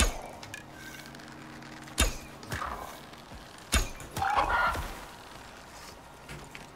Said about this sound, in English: There's a moa bird.